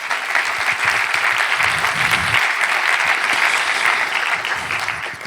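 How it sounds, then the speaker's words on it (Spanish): A church congregation claps for several seconds, a dense, steady applause that fills the room, with no talk over it. "Dale un aplauso al Señor."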